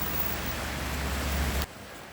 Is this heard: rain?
yes